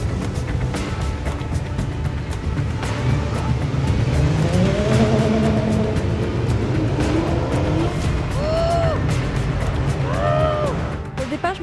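Race cars setting off at the start of a Fun Cup circuit race, engines droning and revving loudly together with rising tones as they pull away, under steady crowd and track noise.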